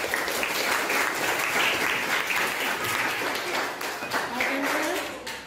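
An audience applauds after a group presentation in a class session, with dense, sustained clapping throughout and a voice speaking over it.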